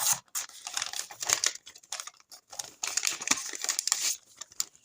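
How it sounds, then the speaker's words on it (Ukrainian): A plastic packet crinkles and tears open up close, in irregular rustling bursts with brief pauses. "І відкриваємо ось цей ось пакетик."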